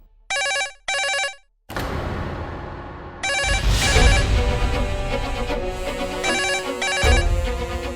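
A telephone rings in two short electronic bursts, then loud, busy music with a thumping beat takes over and continues to the end.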